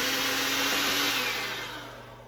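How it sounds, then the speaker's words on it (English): Electric mixer beating eggs into pumpkin cupcake batter, a steady whirring motor hum with a high whine that tapers off as the mixer slows near the end, with no talking. "now I'm gonna add eggs and beat them"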